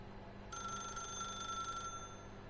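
A telephone rings in one clear burst of bright electronic trilling, starting after a short quiet pause and stopping near the end, heard alone in a quiet room.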